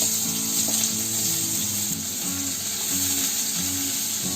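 Finely chopped onion frying in a pan, a steady close sizzle at even loudness with faint stirring sounds over a low background tone.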